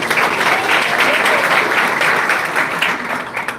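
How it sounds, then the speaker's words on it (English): A graduation-ceremony audience at CMRIT bursts into a big round of applause, loud, dense clapping from many hands sustained evenly before easing slightly at the end. "Give a big round of applause."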